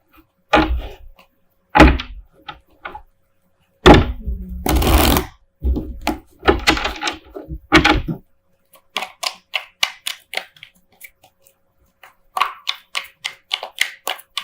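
Tarot cards being shuffled in quick riffling bursts, close by, with pauses between shuffles and a few sharp snaps and taps.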